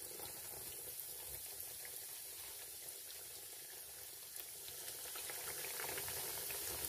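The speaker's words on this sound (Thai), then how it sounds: "เอาสเต็กลงไปทอดได้เลยจ้า" Quiet, steady sizzling and crackling of pork steak frying in hot oil, continuous and fairly close, with no talking.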